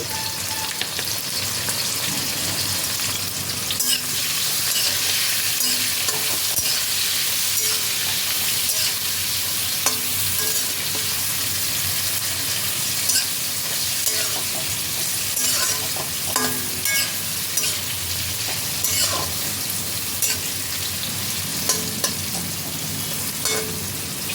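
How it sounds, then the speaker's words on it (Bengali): Bitter gourd slices fry in hot oil with a loud, unbroken sizzle that lasts throughout, broken by scattered light stirring clicks and crackles. "উচ্ছেগুলো ভালোভাবে লালচে করে ভাজা হয়ে গেছে"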